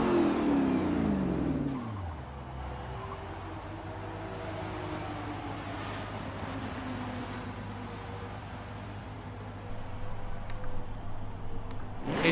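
GT4 race cars in a Silverstone racing game pulling away at the race start, a steady engine drone that swells as the pack accelerates, with a brief rise near the end.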